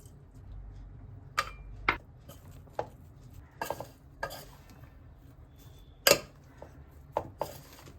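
Gram flour batter mixed with water in a bowl for a creamy chicken dish, with scattered clinks and taps of a spoon against the bowl amid soft stirring, one sharper knock standing out near the end.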